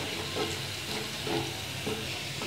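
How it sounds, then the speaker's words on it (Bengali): Garlic and cumin fry in hot oil with a constant soft sizzle and gentle fizzing pulses over a couple of seconds, with no voices. "রসুন আর জিরা ভাজা হয়ে গেছে"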